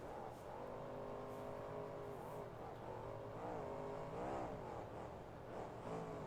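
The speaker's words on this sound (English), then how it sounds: "It looks like that engine is really chugging out here on Gravedigger" The overheating engine of the Gravedigger monster truck in BeamNG.drive, a continuous low throaty rumble that revs up and down in uneven surges, steady and moderately close with no voices.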